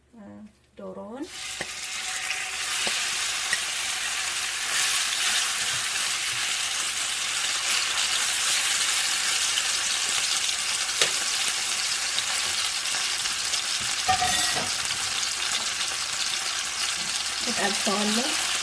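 Pieces of chicken seasoned with pepper fry in hot oil in a pan, with a sharp burst as they go in, then a steady, loud crackling sizzle with occasional stirring sounds and brief voices underneath.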